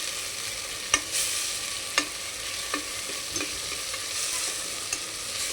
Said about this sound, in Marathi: आणि याच्यामध्ये कांदा टोमॅटोची पेस्ट बनवली. आणि मी आता ते थोडंसं फ्राय व्हायला टाकले.